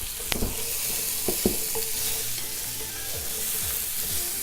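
Sliced halved zucchini stirred into hot oil in a pot, giving a steady close sizzle with a few sharp clicks of a utensil against the pot and no voices.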